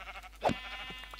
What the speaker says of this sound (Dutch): Schaap!